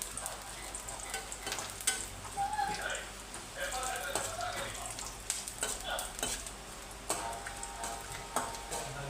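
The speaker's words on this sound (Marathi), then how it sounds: "जरा लाल भाजायचं खोबरं बघा, चांगलं भाजायचं खोबरं." Grated coconut roasts in a pan with a crackling sizzle, broken by repeated scraping and clinking as it is stirred. A voice talks over it at times.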